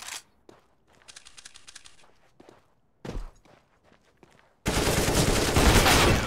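Counter-Strike: Global Offensive match: scattered footsteps and a brief burst of automatic rifle fire, then a loud sustained roar of gunfire and game noise in the final seconds, heard close and without talk.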